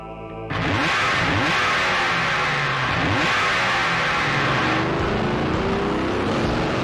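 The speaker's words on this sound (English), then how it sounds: "Oh, and the loud motorcycle." Loud motorcycle engine revving hard in Shin Megami Tensei III Nocturne HD Remaster, roaring up suddenly after a brief quiet start and holding a steady, dense growl close by for several seconds.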